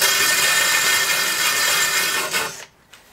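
An electric drill driving a wire brush scours rust and paint off the metal air filter housing of a Mitsubishi Colt, a loud continuous abrasive whirr that winds down and stops near the end.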